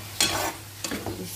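Chicken and green bell pepper are stirred in a frying pan: two quick scraping strokes over a soft, continuous sizzle.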